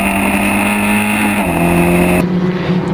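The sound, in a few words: historic Formula Ford race car onboard at Silverstone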